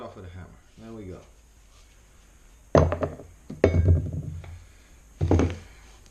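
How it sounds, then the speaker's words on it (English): Hammer blows knocking on a radiator pipe fitting during a pipe-to-valve replacement, three sharp metallic strikes spaced a second or two apart, with someone talking before them. "I'm sure if I got it on with a hammer,"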